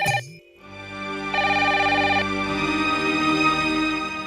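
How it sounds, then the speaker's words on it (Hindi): An electronic phone ringtone plays in a home, a steady, close, sustained tonal ring that starts after a brief cut-off sound and continues without talk over it. "हट, फोन उठाने दे।"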